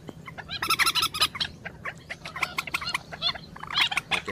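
Birds calling in the dark during a night hunt in the Mekong Delta countryside, several bright chirps and trills in quick bursts, fairly close, over steady low background hum with no talk.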